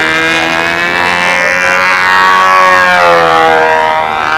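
A P-51 aircraft engine passing close by, a loud sustained roar with a rising and falling whine as it goes past, with no speech over it.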